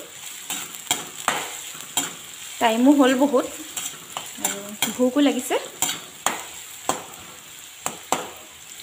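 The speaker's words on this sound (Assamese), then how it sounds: "এইফালে আলু ভাজি আছোঁ" Potatoes sizzle steadily in a hot pan while a utensil scrapes and taps at irregular intervals; a voice speaks briefly in the middle.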